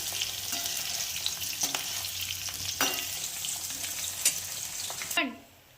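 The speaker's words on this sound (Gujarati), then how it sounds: "આપણે ભીંડાને આ રીતે વચ્ચે વચ્ચે હલાવતા જવાનું, જેથી બધા ભીંડા સરસ રીતે તળાઈ જાય અને સોફ્ટ થઈ જાય." Okra frying in oil as it is stirred in a pan, a loud continuous sizzle with repeated spatula scrapes and knocks, the sizzle dying away abruptly near the end, with no talking.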